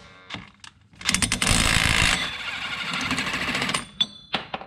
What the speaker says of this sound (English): I'm going to go ahead and take an impact and shoot this thing off.